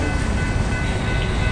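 A Norfolk Southern freight train rumbles past close by in downtown Rock Hill, South Carolina, a steady low roar with faint metallic ringing on top, no voices.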